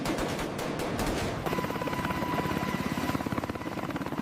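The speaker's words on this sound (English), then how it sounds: "This technique allows helicopters to remain running, rotors turning, while weapons are loaded." Military helicopters idle on the ground with rotors turning during hot pit rearming, a loud steady engine roar overlaid with rapid rhythmic blade chop that grows more pronounced partway through, with no talking.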